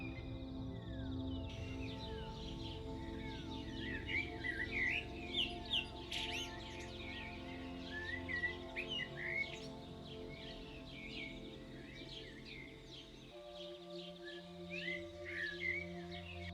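Wild birds chirp and sing in overlapping calls over a steady outdoor ambience along an African river, the song continuous and fairly close throughout.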